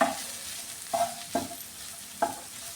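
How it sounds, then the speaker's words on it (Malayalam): A spoon stirs carrot and green bean mezhukkupuratti in a pan, giving a few sharp scraping knocks against a soft steady sizzle, close and without talk. "ഒന്നുകൂടെ ഒന്ന് ഇളക്കി കൊടുക്കാം"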